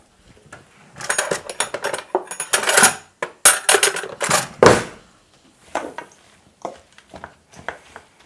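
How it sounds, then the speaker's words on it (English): A big spoon drops zucchini fritter batter onto a baking tray, with a run of close metallic scrapes and clinks in bursts that thin out into sparser taps. "I'm just going to take a big giant spoon and drop them onto here, and then I'll flatten them out"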